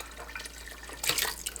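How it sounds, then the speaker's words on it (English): Water heated to 155 degrees is poured into cheese curds while making Gouda, giving a soft trickle that swells into a louder splashing pour near the end, close by with no talk. "my water is at 155 degrees, so I'm just gonna start adding some in"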